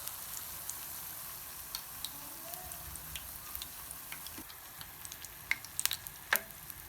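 Spinach pakoras frying in oil over a medium-low flame, a faint steady crackling sizzle with scattered small pops and ticks, growing a little sharper near the end, no talking.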